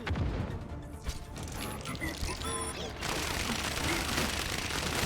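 Bastion's weapon in Overwatch 2 fires with a loud, dense stream of rattling, mechanical shots over a busy game mix, continuing steadily from start to finish.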